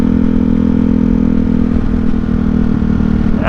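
A Ducati Hypermotard motorcycle fitted with an Austin Racing exhaust runs loud and close, with a steady deep engine drone at roughly even revs throughout.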